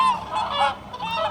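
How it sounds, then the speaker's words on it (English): A crane gives a loud, harsh, honking call that carries on continuously as one short burst, heard alone. "Crane."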